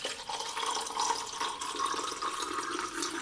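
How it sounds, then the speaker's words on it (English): Water poured into a film developing tank, a steady rushing, splashing flow that carries on without a break and stays fairly close. "So the thing I'm going to do first is just pour in water and soak it for 3 to 5 minutes."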